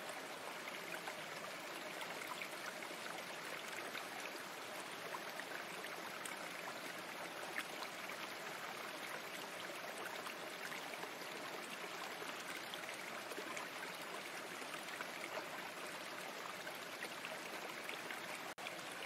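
A stream flows steadily, a faint, even rush of running water with no other sounds.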